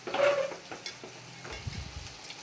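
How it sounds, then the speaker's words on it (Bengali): Soybean chunks being stir-fried with spices in a pan for a vegetarian curry, faint sizzling mixed with a few scraping stirs and a soft clatter. "এই যে সয়াবিনটা দিয়ে ভালো করে কষিয়ে নেবো"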